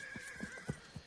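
A horse in the video game Wild West Online lets out a high, quavering whinny, accompanied by a few soft hoof clops, heard fairly close and on its own.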